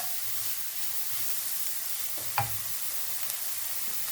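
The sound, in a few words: carrots cooking in a pan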